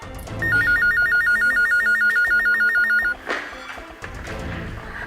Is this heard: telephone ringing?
yes